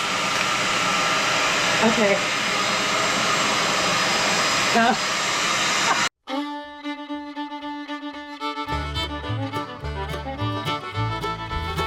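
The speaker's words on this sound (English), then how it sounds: "I know the vacuum's going" A household vacuum cleaner runs with a loud, steady, close-up roar for about six seconds, a voice speaking briefly over it, before it cuts off abruptly and music takes over.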